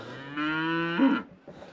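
A cow in a herd near a barn gives one loud, drawn-out moo lasting about a second, close by, followed by a faint shorter call.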